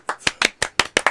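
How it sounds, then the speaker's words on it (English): A single person claps about six times in a quick, even rhythm, each clap sharp, close and loud, with no talking. "I'm just gonna applaud this game every time"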